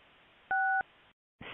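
Two-tone DTMF keypad beep from a single key press during a VoIP call test on a Kazoo-platform telephony service, one short steady tone about a third of a second long over a faint line hiss, then another tone begins.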